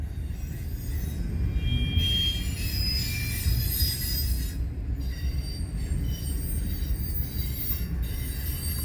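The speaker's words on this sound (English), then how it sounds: "A lot of power on a very short train" A short, heavily powered Union Pacific train passes in Fremont, Nebraska: a continuous close rumble of rolling cars with high, thin wheel squeals drifting in and out, no voices.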